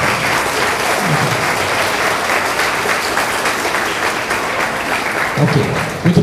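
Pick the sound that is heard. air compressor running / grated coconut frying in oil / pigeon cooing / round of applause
round of applause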